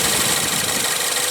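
A 2016 Ford Fusion's 2.0 L turbocharged four-cylinder engine running with a loud, steady hum and a broad hiss, heard close without talk.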